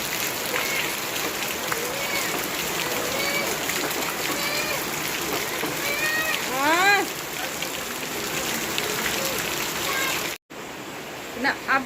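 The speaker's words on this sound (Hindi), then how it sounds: "तेज़ बारिश हो रही है।" Heavy rain falls in a steady, dense hiss on surrounding surfaces, with a voice briefly heard over it and a short break near the end.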